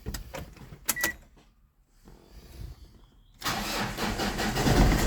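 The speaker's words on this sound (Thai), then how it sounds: "เครื่องยนต์ติดง่ายนะครับ ติดง่ายไฟไม่โชว์" A 2010 Ford Ranger open-cab pickup with a 2.5 engine cranks and fires up, brief clicks and a starter whir before a pause, then the engine catches and settles into a loud, close, rough idle.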